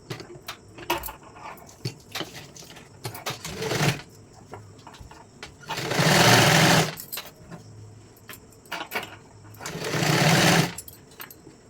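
A sewing machine stitches a size 44 katori blouse, starting with scattered clicks and short runs, then two longer, loud bursts of rapid needle whirring separated by quiet handling noises.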